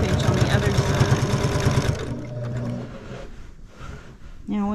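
A sewing machine free-motion quilts a beginner pinwheel quilt, stitching freehand. It runs in a fast, loud mechanical rhythm for about two seconds, then quiets and slows to softer intermittent sounds. Someone talks at the same time.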